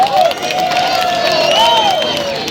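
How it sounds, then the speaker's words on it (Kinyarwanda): An audience at a comedy show roars with cheering and clapping, loud and continuous for a couple of seconds, with a high whistling tone sliding through the crowd noise. "Mumwera amashyi menshi."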